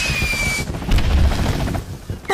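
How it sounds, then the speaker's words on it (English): Crates of fireworks burst open in a toy train crash, with a brief high whistle followed by loud crackling bangs, fizzing and whizzing pops scattered densely across the moment. "with a crash and a bang, the crates broke open, and fireworks fizzed and whizzed everywhere"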